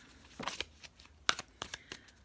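Tarot cards are shuffled by hand in a few quick, crisp riffles and slaps, short bursts separated by brief pauses, close and fairly quiet with no talking.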